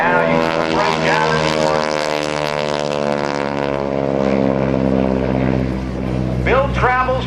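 Grumman TBM Avenger propeller warplane flying at an airshow, a loud droning engine with steady harmonic whine that shifts pitch as it passes, while an announcer talks over it throughout.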